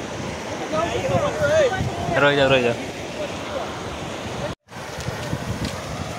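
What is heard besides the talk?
floodwater from heavy rainfall flowing over a road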